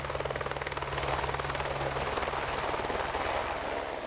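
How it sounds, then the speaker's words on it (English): A helicopter flies over a Siberian plateau with a steady, rhythmic rotor chop and a whining turbine, fairly faint and continuous, with no talk. "A helicopter transported the inspectors for the ground observations to one of the most beautiful places on the plateau"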